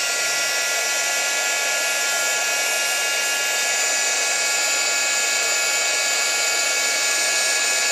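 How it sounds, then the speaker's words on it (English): An embossing heat gun blows a loud, steady, high whirring hiss without pause while melting embossing powder, with no voices. "So you take your embossing gun, just your regular old heat gun, and emboss."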